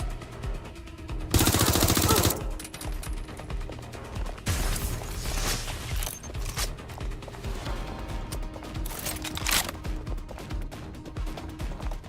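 Gunfire in the video game Watch Dogs: Legion, with a loud sustained burst early on and further clattering shots and mechanical noises continuing under a dense game soundscape.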